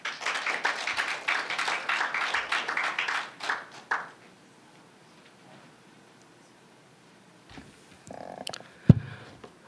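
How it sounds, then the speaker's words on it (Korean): An audience at a science and policing policy forum gives brief applause to welcome a professor to the stage, lasting about four seconds before fading to near silence, followed by a few faint handling noises and clicks. "큰 박수로 맞이해 주시면 감사하겠습니다."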